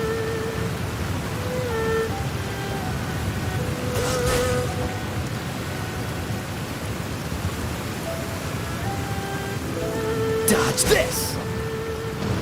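Steady rain hiss in the game Genshin Impact fills the background evenly throughout, while a voice speaks briefly over it along with a few short game effects.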